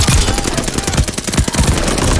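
Rapid, loud gunfire bursts in Call of Duty: Vanguard, a quick string of booming shotgun blasts packed closely together over about two seconds.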